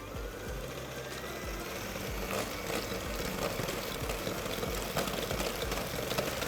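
An electric mixer whips thick cream in a bowl, giving a steady, close whirring drone that grows slightly louder and busier as the beating goes on.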